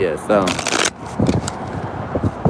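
Playing cards riffle and flutter in quick bursts close by, with wind noise and a person talking between the shuffles.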